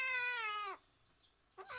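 Den-chan, a small female cat, gives one drawn-out meow that falls off at the end, then a short quiet gap and the start of a second, briefer meow close by.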